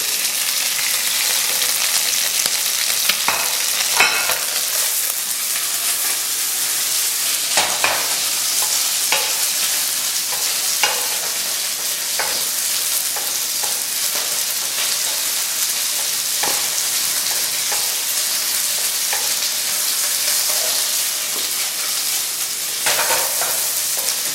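Ginger frying in a pan for a sweet chili chicken dish, a steady, loud sizzle with occasional sharp crackles and stirring scrapes throughout, no voices.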